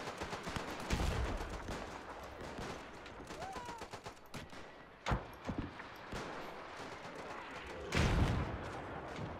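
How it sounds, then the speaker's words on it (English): WW1 battle in the game Between Empires with artillery fire: scattered booming blasts and sharp gunfire bursts at irregular intervals, louder thumps near the middle and end, over a dense rumbling battlefield background. "Enemy artillery focusing on us."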